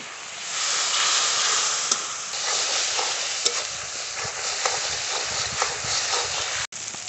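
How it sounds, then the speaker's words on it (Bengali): Spices with salt, turmeric and a splash of water fry in a pan, a steady loud sizzle and hiss with occasional stirring scrapes throughout. "স্বাদ মতো লবণ, পরিমাণ মতো হলুদ গুঁড়ো দেবো, একটু বাটি ধোয়া জল দিয়ে কষিয়ে নেব ভালো করে।"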